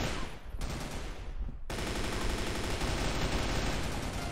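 Rapid automatic gunfire from an RPK light machine gun in a zombie-mode shooter game, dense continuous bursts that briefly break off and then resume loud and unbroken.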